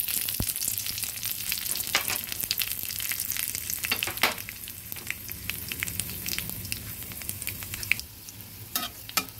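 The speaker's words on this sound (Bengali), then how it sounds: "আমি এখন ফোড়নটা দিয়ে দিচ্ছি।" Dried red chilies and nigella seeds crackle in hot oil, a loud close sizzle with sharp spitting pops and stirring scrapes running continuously, with no voices.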